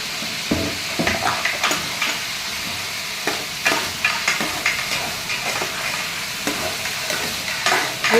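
Sliced onions and green chilies sizzle in a hot oiled pan for veg biryani, a steady close frying hiss broken by repeated scraping stirs of a spoon, with no talking.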